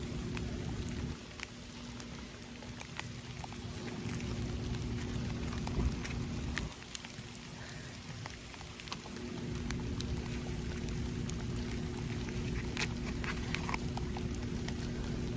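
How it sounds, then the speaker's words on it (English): Hard rain pours steadily onto a garden bed where green pepper and eggplant seedlings are being planted, a dense continuous patter with scattered louder drops close by, lasting throughout. "It's raining pretty hard."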